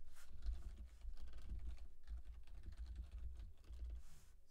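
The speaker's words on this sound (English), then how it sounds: "He's typing that in there for you guys." A computer keyboard clatters with quick, uneven keystrokes in continuous bursts, faint and close, with no voices over it during a live football play-by-play stream.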